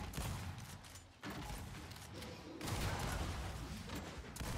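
Video game gunfire, dense rapid volleys of shots in several bursts with brief gaps between them, fairly faint and distant.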